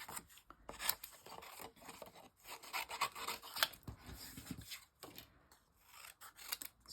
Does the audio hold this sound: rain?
no